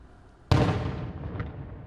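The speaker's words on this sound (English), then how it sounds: "An artillery battle still shaking the liberated city of Kupiansk." A single heavy artillery blast in the city of Kupiansk during shelling, a sudden loud boom followed by a long rumbling decay with a faint secondary thump.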